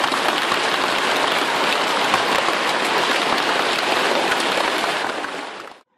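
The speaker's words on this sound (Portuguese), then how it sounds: "Em algumas imagens, a chuva de granizo parecia o apocalipse." Heavy hail and rain pound down in a city-centre storm, a dense, loud, continuous roar of hard impacts that fades out only at the very end.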